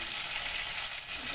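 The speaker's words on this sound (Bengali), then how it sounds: "দেখুন পেঁয়াজটা একটু ফ্রাই হয়ে গেছে" Onion frying in a pan with ginger-garlic paste just added, a steady close hiss and sizzle running continuously with faint stirring, no voices.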